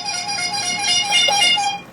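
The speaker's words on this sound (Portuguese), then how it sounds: "Estamos aqui usando a buzina do nosso pastor" A horn used at a church gathering is sounded in a sustained, wavering tonal blast that swells and falls for about two seconds, loud and close, with no talk over it.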